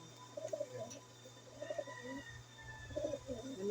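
Pigeons coo softly in a loft, several low, rolling calls spaced across a few seconds over a faint steady hum, distant and gentle.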